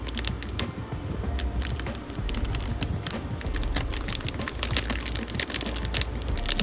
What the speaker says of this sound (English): we're gonna take a piece of tape and we're gonna secure that down